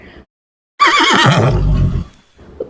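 A horse gives one loud, close whinny that rises and wavers, then trails off into a lower snort, with quiet moments before and after.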